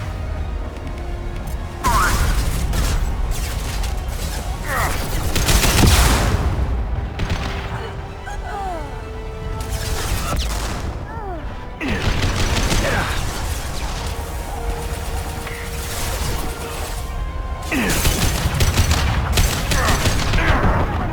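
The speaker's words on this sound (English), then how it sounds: "Firing concussive shot." Gunfire and a concussive shot sound off in the video game Mass Effect 2: continuous loud battle noise with repeated booming blasts and volleys, mixed with voices and game effects throughout.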